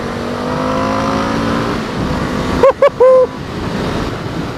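An Indian FTR1200 motorcycle engine pulls hard under acceleration, a loud continuous roar with wind rush and a few brief tonal bursts near the end, no talk.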